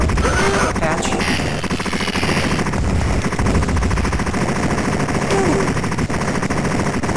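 Continuous rapid gunfire from a weak pea-shooter gun in the arcade game Total Carnage, loud and unbroken throughout, with busy game sounds and a voice speaking underneath.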